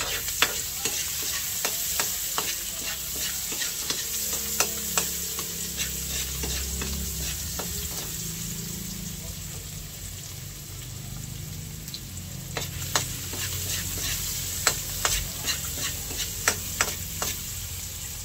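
Garlic and then onion sauté in a hot pan for a fish and squash dish, a soft, even sizzle with a steady run of sharp ladle taps and scrapes against the pan, close-up.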